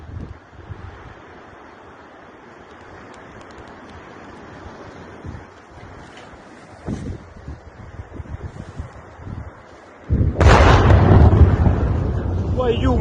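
A large explosion from a Russian strike on a Ukrainian weapons depot erupts suddenly with a loud broadband roar after about ten seconds of wind-blown outdoor rumble, then sustains a heavy rumbling blast.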